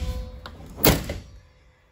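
A school bus emergency roof hatch is pushed open with a dull thunk and a short rattle, close and fairly loud, then fading to quiet.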